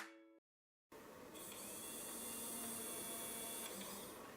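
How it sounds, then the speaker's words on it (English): A small 3D pen extruder motor runs continuously near the mic after a brief silence, giving a steady whirring hum with a faint high whine throughout. "If the motor turns on,"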